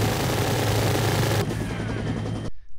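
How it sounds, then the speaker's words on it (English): Gatling guns in a Unity game demo firing as a dense, continuous roar of rapid shots over a low rumble, then cutting off abruptly near the end. "So these are effects that happen with the Gatling guns over time"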